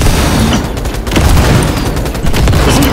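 Grenade blasts and heavy combat in Cyberpunk 2077 form a dense, loud wall of booms and crackling gunfire that churns continuously with repeated impacts and no clear pauses.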